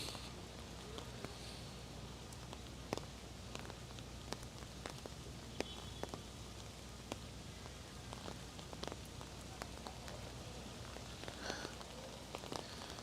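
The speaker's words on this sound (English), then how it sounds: "come on, stop raining." Heavy rain falls steadily on a surface in Long Island City, New York, a soft continuous hiss dotted with scattered drips and taps, heard from a distance.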